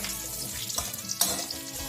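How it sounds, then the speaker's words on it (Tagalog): Sweet potato sautés in a pan for Ilocano pinakbet, a soft steady sizzle broken by a couple of sharp scraping stirs, close and moderately loud with no talking. "Ilagay ang kamote at igisa ang kamote."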